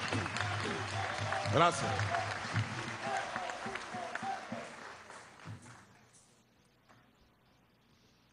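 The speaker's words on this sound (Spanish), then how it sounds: "Un aplauso a nuestra Fuerza Armada Nacional Bolivariana." Audience applause for Venezuela's Bolivarian National Armed Forces at a government cultural council event, a swell of clapping and voices under a speaker that gradually fades out, leaving near silence.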